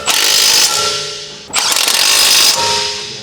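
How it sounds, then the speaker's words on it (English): A large impact wrench with a 21mm long socket tightens the caliper bracket retaining bolts on a Dodge Ram, two loud rattling hammering bursts, each over a second long, separated by a short pause. "Using the large 21mm long socket with the large impact wrench, tighten the caliper bracket retaining bolts."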